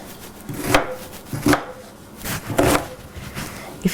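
A peeled whole onion cut with a knife on a board, four or five distinct sharp chops spaced about a second apart, close and clear over a quiet background, no voices.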